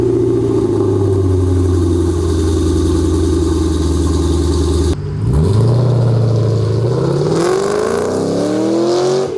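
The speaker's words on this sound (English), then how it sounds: "Here's what it sounds like on an off-road X pipe." A 2005-2009 Ford Mustang axle-back exhaust on an off-road X-pipe burbles at a steady, loud idle, then snaps into a sudden rev and a longer climbing pull before easing off, recorded up close without talking.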